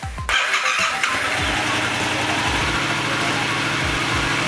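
A Yamaha FZ-07 motorcycle engine with a modified exhaust fires up and settles into a loud, steady idle with regular low pulsing, close to the listener.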